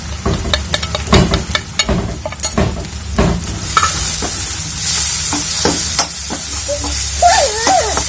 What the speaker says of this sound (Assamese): এতিয়া এইখিনি লৰাই দিছোঁ